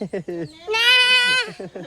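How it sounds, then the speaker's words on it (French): A goat gives a single drawn-out bleat, loud and close, lasting close to a second between short bursts of nearby voices on an island farm setting. "Il nous a ramené une maxi chèvre."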